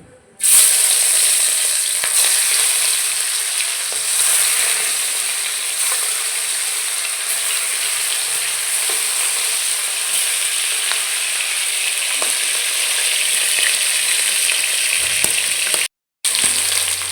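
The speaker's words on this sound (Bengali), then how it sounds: "কড়াইতে তেল গরম হয়ে গেছে মাছগুলো ছেড়ে দিচ্ছি" Rita fish coated in salt and turmeric sizzle loudly and steadily in hot oil in a wok, a dense continuous frying hiss that cuts out briefly near the end.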